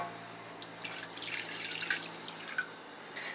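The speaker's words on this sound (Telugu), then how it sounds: "ఒక బౌల్ లో ఇలా ఒక కప్పు వాటర్ పోసుకోండి." A cup of water is poured into a bowl on the stove for making masala tea, a faint close trickle and splash with a couple of small drip accents, heard alone.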